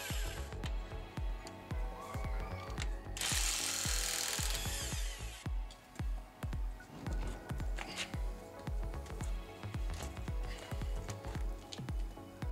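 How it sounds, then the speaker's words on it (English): On a GMC Yukon wheel, a power tool rattles lug nuts loose in a close burst of whirring and clicking. Metallic knocks and clanks come before and after it, with no talk. "Once it's jacked up, go ahead and take off the lug nuts"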